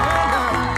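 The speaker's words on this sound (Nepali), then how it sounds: "अभिषेक भाइको लागि जोरदार ताली बज्नु पर्यो है।" An audience applauds and cheers for Abhishek at a gathering, a brief, dense wash of clapping and whoops heard up close.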